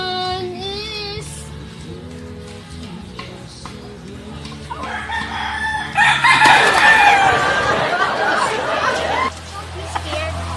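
A rooster crows loudly several times on a chicken farm, with clucking and hens chattering around it and people talking nearby.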